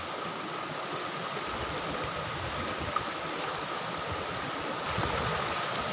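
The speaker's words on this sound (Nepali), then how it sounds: "खोला फर्काउँदैछ" A stream rushes steadily and close by while boys divert its flow, a dense continuous wash of moving water with no talking over it.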